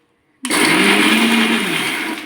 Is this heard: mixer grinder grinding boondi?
yes